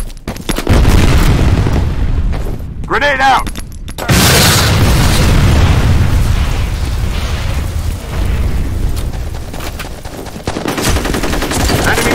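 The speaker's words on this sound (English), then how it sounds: "Fire in the hole." A grenade explodes in the F.E.A.R. Combat multiplayer shooter, a loud booming blast amid bursts of automatic gunfire and brief in-game voices, with another heavy rumble later.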